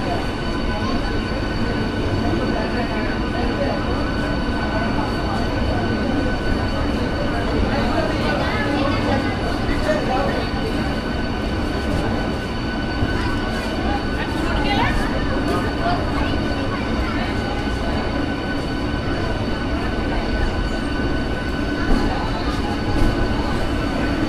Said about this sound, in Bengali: ট্রেন আমাদের ঢুকে গেল দীঘা স্টেশনে।